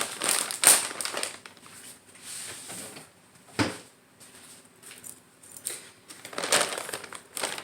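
A brand new bag of powdered milk is torn open up close, giving crisp plastic crinkles and rustles in several short bursts with quieter handling between, and no talking.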